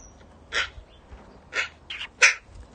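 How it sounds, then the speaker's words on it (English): A bird calls outdoors on a breezy day, giving three or four harsh, crow-like bursts at uneven intervals, fairly near and clear over faint wind noise. "Bird."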